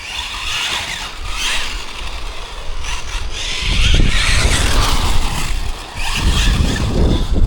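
A Hobao TT2.0 RC car with noisy gearing drives on a HobbyKing 3S or 4S battery, giving a close, continuous whine and rumble that swells and rises into a flat-out run.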